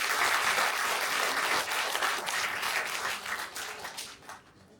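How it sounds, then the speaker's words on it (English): An audience applauds Sana at an executive centre gathering, a full, loud burst of many people clapping together that stays strong for several seconds and then fades out near the end. "Let's give a round of applause to Sana."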